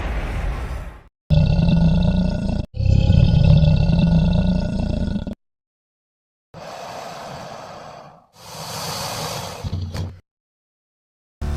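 A lion roars while under attack from a Nile crocodile: loud, deep, rough bursts close by, several long roars and grunts broken by short silences.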